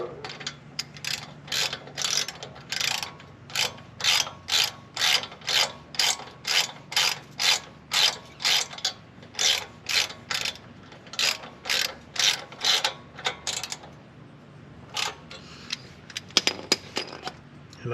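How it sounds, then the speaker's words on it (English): Socket ratchet tightening a bolt on a 2021+ Ford Bronco, rhythmic close clicking strokes repeated steadily about once a second, then stopping near the end with a few clanks of tools. "Hope if I have the socket going the right way."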